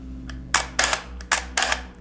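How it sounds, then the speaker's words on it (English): The spring motor drive of a Praktina FX 2 film camera is wound by hand, giving a series of close, loud ratcheting clicks and bursts in an uneven rhythm, with no talking. "So you put tension into it by winding this up"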